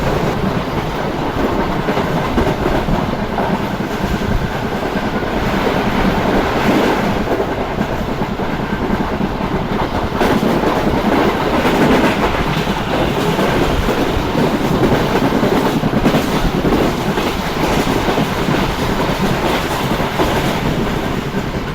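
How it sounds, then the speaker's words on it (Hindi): The Karakoram Express rolls toward Jumbi railway station in winter with a loud, sustained rumble and steady clickety-clack of wheels on rail joints, heard from close by for over twenty seconds without talk. "हमारी ट्रेन अप्रोच बना रही है"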